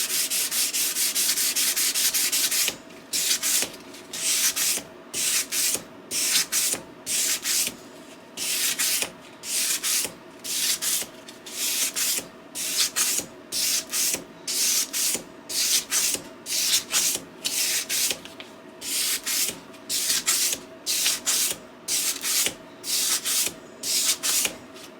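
Abrasive sanding on the bevels of a steel farrier's rasp knife blade: a continuous rasping pass, then steady rhythmic back-and-forth strokes about twice a second, close and fairly loud with no talking.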